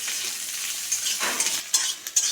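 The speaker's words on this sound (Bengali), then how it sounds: "পেঁয়াজগুলো ভাজা হয়ে গেছে" Onions frying in oil with black cumin and bay leaf, stirred in a pan: a bright continuous sizzle broken by scraping and a few sharp clinks of the spatula, close and loud.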